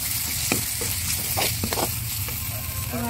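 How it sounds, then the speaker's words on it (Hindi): Chopped tomato being stirred into a spiced bean and potato curry frying in oil, a steady sizzle broken by several scraping stirs of a spoon against the pan. "अब इसमें डालेंगे ये काट के रखा था एक टमाटर, इसको अच्छी मेहनत कर देंगे"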